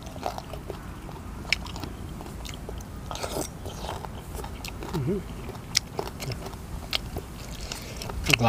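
Crunchy chewing of spicy Thai noodle salad made with khanom jeen rice noodles and vegetables, close to the mouth, with steady biting and crunching over faint background noise and no clear speech.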